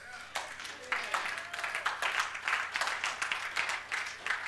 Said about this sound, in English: Somebody should clap like you mean it.